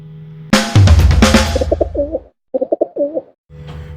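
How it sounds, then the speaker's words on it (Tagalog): Pigeons coo from a perch on an offshore crane, a burst of loud, close cooing and fluttering followed by several short rhythmic coo phrases with brief pauses between them. "Alam nyo ba kung bakit dumadami yung mga kalapating tumutuko dito?"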